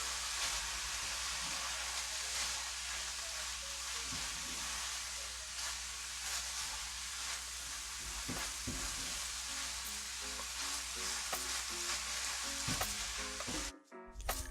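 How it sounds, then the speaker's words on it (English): Cream cheese being stirred and broken up into spinach in a hot frying pan, a steady close sizzle with soft scraping stir strokes throughout, no talking. "You want to break that up into the spinach so that can soften"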